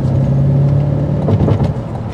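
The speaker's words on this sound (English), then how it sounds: "But I mean, this is a V8, raw power." A 2023 Chevrolet Corvette Stingray's V8 revs hard, a loud, close engine roar with a steady low drone that surges and crackles briefly near the end.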